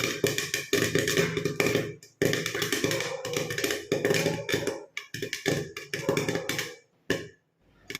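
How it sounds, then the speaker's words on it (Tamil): Popcorn kernels popping inside a covered pan on the stove for theatre-style homemade popcorn, a dense, busy crackle of rapid pops and taps that thins out toward the end with a brief pause. "பாப்கார்ன் எல்லாமே நல்லா பொரிஞ்சு வந்துருச்சு"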